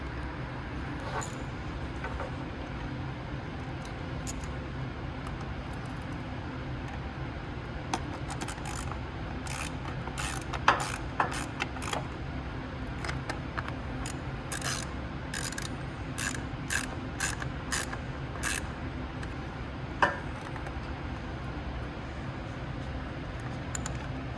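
Small screws threaded by hand and tightened into a carburetor on a FIRMAN engine, with close, light metallic ratcheting clicks and taps scattered over steady background hum, no talking.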